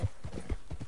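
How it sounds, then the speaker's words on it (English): Horse hooves clip-clop in a steady, quick rhythm as a rider travels on horseback in a PS4 video game, close and distinct over a soft background wash. "the horse I'm riding right now"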